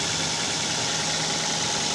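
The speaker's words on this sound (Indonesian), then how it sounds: "ketika mobil menyala seperti ini" A car engine idles steadily with the negative battery terminal disconnected, a loud, even mechanical drone with constant vibration, close up and with no talk over it.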